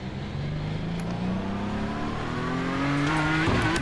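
A GTE race car in the iRacing sim launches from a standstill with turbo lag. The engine drones low and steady, then climbs in pitch as it builds revs, loud and close, with no one speaking.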